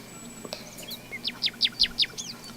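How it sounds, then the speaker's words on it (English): Bird chirping in a forest habitat where woodpeckers live: a quick series of about six bright, sharp chirps in a steady rhythm, fairly close and clear over a quiet background hum. "它是鸟类。"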